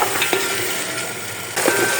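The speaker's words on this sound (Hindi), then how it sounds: "अब मैं इसमें शामिल करूँगी 1 किलो ग्रीन चने। इसको हम इस मसाले में अच्छी तरह फ्राई कर लेंगे।" A kilo of green chickpeas stirred and fried in masala in a pot, a steady loud sizzle broken by spoon scrapes and clinks against the metal, close, no talking.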